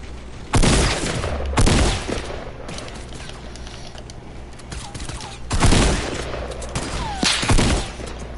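Gunfire from a sniper in an online shooter video game rings out in four loud, sharp shots spaced a few seconds apart, each followed by a short echoing tail over a low background hum.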